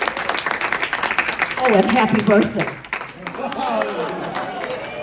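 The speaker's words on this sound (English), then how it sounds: "So would you all please give him a round of applause?" A meeting audience applauds in a steady, moderate patter while voices talk and call out over it. The clapping holds under the talk and fades slightly toward the end.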